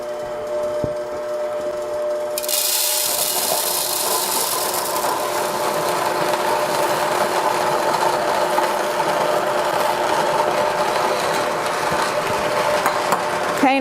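A Mockmill home grain mill grinds grain with a steady, loud mechanical whir and rasp that swells into a brighter, harsher grinding roar after a couple of seconds and holds constant.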